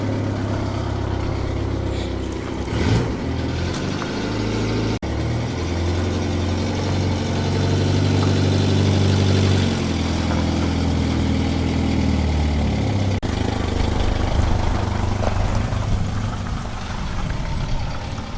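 A 1950s Renault 4CV engine idles steadily while warming up, a continuous low mechanical rumble with slight surges in tone, close by and with no one talking.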